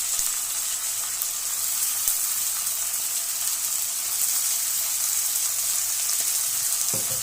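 Chicken liver pieces fry in a pan with a loud, constant, hissing sizzle, close up and uninterrupted, with a faint clink near the end.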